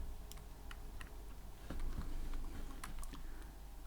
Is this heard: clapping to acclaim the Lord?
no